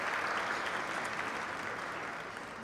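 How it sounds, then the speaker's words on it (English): An audience at a Latina heritage brunch event applauds steadily, a dense wash of many hands clapping at once that fades slightly toward the end, with no talk over it. "So Mr. Edgar Ramirez from Chicago Commons, please stand for an applause for hosting us today."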